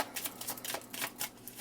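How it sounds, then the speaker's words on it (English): Playing cards shuffled and drawn from a deck during a tarot-style reading, a quick run of close, crisp riffling swishes and snaps with no talk over them. "Let's get one more card."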